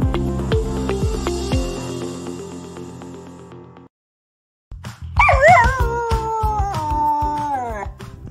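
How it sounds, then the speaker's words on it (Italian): A dog howls in long, wavering, rising and falling cries that start after a brief silence, following a stretch of steady, unrelated background sound. "Non senti l'ululato?"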